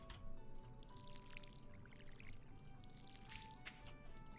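Watering crops in Stardew Valley plays as soft trickling, dripping splashes of poured water, quiet and continuous over a low background of game music.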